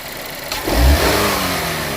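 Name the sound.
car engine revving as the throttle is snapped open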